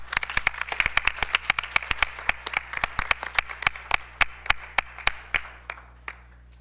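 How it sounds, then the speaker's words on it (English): A small audience at a school board business meeting claps in a sparse, uneven patter of distinct handclaps that thins out and fades over several seconds, with no voices over it. "Let's go ahead and give Katie one more round of applause for that wonderful video."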